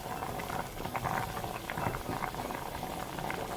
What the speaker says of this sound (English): So now that it's boiling,